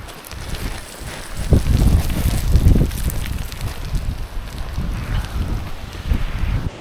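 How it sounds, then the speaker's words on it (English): Strong wind on a New Zealand mountainside roars and buffets the microphone in continuous gusts, loud and close throughout. "It's wind is like so strong that even foot placement becomes a problem because your feet are actually getting pushed around by the wind."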